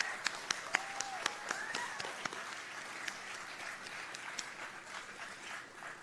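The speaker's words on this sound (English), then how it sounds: "Let's give those supporters the round of applause they also deserve." Outdoor high school graduation crowd applauding the graduates' supporters: scattered clapping with a few sharp nearby claps, some whistles, and the sound slowly fading toward the end.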